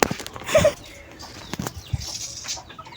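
Taiwan racing pigeons take off in a brief burst of flapping wings, close and loud, followed by a few scattered flutters and light rustling.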